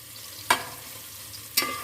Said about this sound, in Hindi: अभी हम प्याज को फ्राई कर लेते हैं